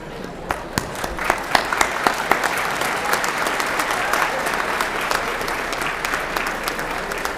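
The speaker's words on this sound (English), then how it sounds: "Let's applaud your love" A high school assembly for Veterans Day breaks into applause, starting with a few sharp individual claps that quickly build into a loud, sustained roar of clapping from a large gym crowd.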